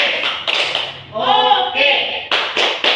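A group of adult teachers in a classroom performs the tepuk semangat spirit clap, with quick bursts of patterned clapping around a short stretch of voices.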